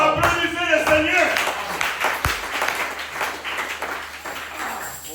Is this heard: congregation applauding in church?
yes